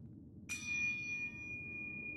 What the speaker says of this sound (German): Ist das eine Glocke?